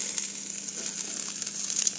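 Rice sautéing in a hot pan for shariya rice, giving a steady, close, bright sizzle with faint stirring scrapes and no pauses.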